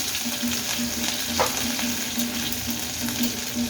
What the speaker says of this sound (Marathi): आता हिरवी मिरची चांगली परतून झाली